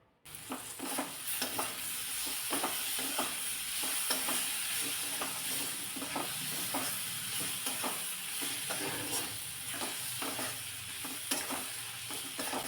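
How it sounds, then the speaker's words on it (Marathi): Chopped tomato with masala sautéing in a pan, a continuous sizzle broken by frequent rhythmic spatula scrapes and stirs, close and alone. "टॉमॅटो परतायला काही फारसा वेळ नाही लागत"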